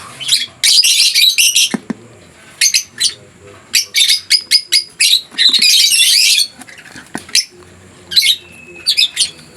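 Lutino opaline lovebirds chirp and squawk close by in a cage, a busy burst of sharp high tweets and calls in quick clusters separated by brief pauses.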